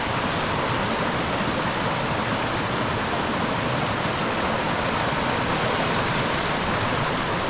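A backcountry creek in Pisgah National Forest rushes continuously, a dense, even wash of flowing water heard close and fairly loud with no breaks.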